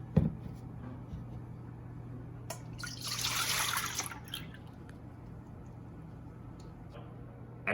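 Milk poured into a measuring cup for pancake batter gives a faint trickle that swells into a brief steady pour of about a second, then tapers into quiet drips, close and soft with no talking.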